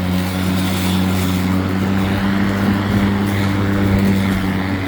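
An EGO brushless self-propelled lawn mower running steadily, a continuous whirring motor hum with strong low tones and a broad blade rush, loud and close for the whole stretch without pause.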